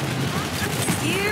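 Dense gunfire in the Borderlands 3 shooter game, a continuous loud clatter of shots filling the short moment with no clear gaps.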